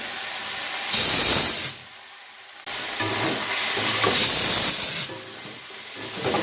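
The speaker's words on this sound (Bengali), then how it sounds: "ডালিয়ার সিটি পড়ে গেছে" Pressure cooker whistle hissing while dalia cooks on a home kitchen stove: a loud steamy hiss bursts briefly, cuts off, then returns in a longer, fluctuating blast with rising and falling jets of steam.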